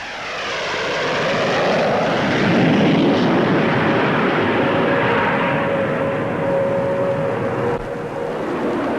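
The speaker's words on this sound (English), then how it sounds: "Now another Delta, the Gloucester Javelin." Gloster Javelin delta-wing jet fighter with twin Armstrong-Siddeley Sapphire engines, at a Farnborough air display in the 1950s, passing with a loud, broad rushing roar that swells and holds steady, no voices over it.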